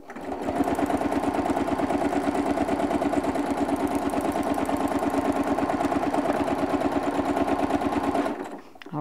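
A sewing machine stitching free motion quilting runs continuously at a fast, even rhythm, its rapid needle clatter loud and close for about eight seconds before stopping abruptly, with no talk over it.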